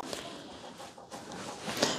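Broody hens cluck softly in a henhouse with egg-filled nests, amid a low, steady barnyard hiss, with scattered faint clucks and no talking.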